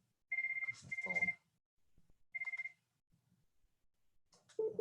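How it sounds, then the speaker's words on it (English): A phone ringing during a webinar: two bursts of an electronic ring, then a shorter third burst after a pause, with brief soft sounds in between and a voice starting at the end. "Put do not disturb on my phone, people."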